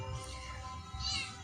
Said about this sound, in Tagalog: Pinakialaman pa mga pusa.